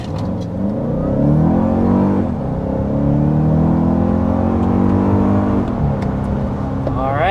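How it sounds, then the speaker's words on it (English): A 2024 Toyota Grand Highlander accelerates hard to 60 mph, its engine revving up in rising sweeps with a brief shift in between, loud and continuous inside the cabin. "All right, let's get things started here with the hard acceleration."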